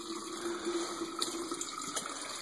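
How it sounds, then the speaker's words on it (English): Water draining from a cabin's hot water heater, a steady continuous rushing and trickling flow at moderate volume with no talk over it. "the water is now draining from the hot water heater"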